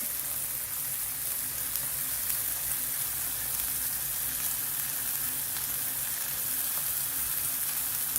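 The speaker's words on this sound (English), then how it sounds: "you can hear and smell a different smell of cooking bacon" Bacon fries in a pan with a dense, steady sizzle and crackle, close and even throughout, with no talking.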